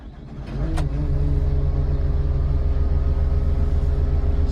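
A Case 321 compact loader's diesel engine cranks and fires after glow-plug preheat, rising quickly into a steady, loud, close idle rumble with no talk.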